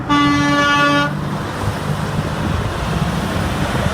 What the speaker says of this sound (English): We got so many people honking their horns.